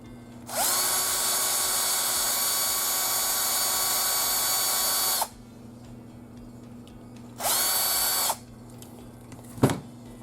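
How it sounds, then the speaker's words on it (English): An electric drill bores into a diecast model car, a long high-pitched whine for about five seconds, then a short second burst, close and clear, with a small clunk afterward. "I may need to drill that back one a little more."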